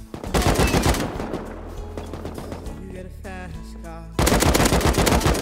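Rapid automatic gunfire from the video game Rust rattles loudly in dense bursts, easing to a lower sustained clatter mid-clip before a heavy new volley erupts near the end.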